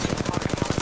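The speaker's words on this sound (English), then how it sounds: "Shots fired at me." Fast automatic gunfire in Apex Legends, a tight rhythmic string of about ten shots in under a second, loud and close.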